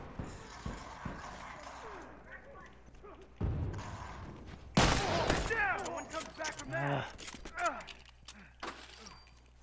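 Shotgun blasts in The Last of Us multiplayer, several sharp loud reports amid scattered gunfire, footsteps and rattling, with voices talking over the action.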